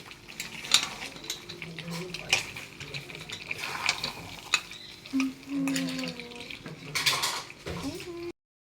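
Meat is stir-fried in a kadai, with loud repeated metallic scraping and clanking of a spatula against the pan in an irregular rhythm, a faint sizzle beneath and a brief low hum midway.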